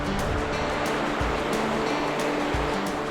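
Kettle River water rushes steadily where a major creek flows in during summer, a loud, continuous broadband wash of moving water with faint low thumps and no voices.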